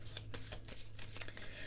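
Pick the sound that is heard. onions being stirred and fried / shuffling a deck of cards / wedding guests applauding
shuffling a deck of cards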